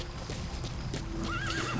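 D-Horse, the horse companion in Metal Gear Solid V: The Phantom Pain, gives a clear rising whinny late in a short stretch of game ambience, with a few soft hoof clops beforehand and no talking over it.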